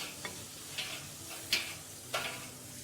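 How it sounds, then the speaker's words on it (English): Monkfish pieces sizzle in a hot pan, a faint steady fry broken by four soft scraping stirs spaced about half a second apart. "Then we will add the monkfish."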